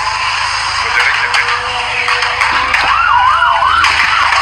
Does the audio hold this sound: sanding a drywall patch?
no